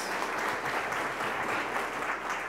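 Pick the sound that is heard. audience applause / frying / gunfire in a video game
audience applause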